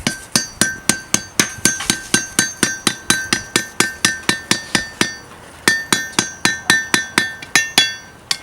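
Hot steel is hammered on an anvil in steady, evenly spaced blows, each a sharp ringing clang with a bright metallic tone. About thirty strikes come in two runs with a short pause between, loud and close, with no talking.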